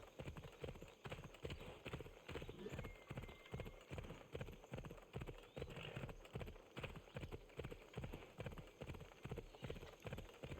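A horse ridden in the game Assassin's Creed Odyssey clip-clops in a steady, brisk hoof rhythm throughout, close and continuous, with faint background ambience and no clear talk.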